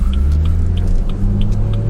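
BMW 340i with the B58 engine driving away from a college campus: a loud, steady, deep engine drone and road rumble continue throughout, with no talking.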